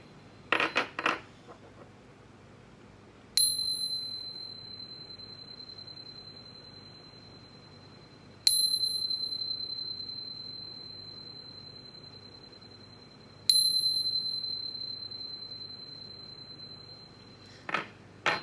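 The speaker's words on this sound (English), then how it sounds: "But first, let's chime." Three bell-like chimes, each ringing out clearly and fading slowly, spaced about five seconds apart before a tarot reading, with brief rustling at the start and end and no talk.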